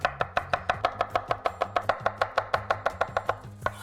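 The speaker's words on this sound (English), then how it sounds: "I'm just going to slice this garlic while we're waiting" A knife slices garlic on a cutting board with about twenty quick, even chops in a steady rhythm, close and crisp with no talking.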